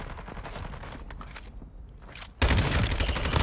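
Shooter video game gunfire rattles in bursts, then jumps into a loud, sustained fusillade of rapid shots partway through. The gunfire is close and dominant, with no talk over it.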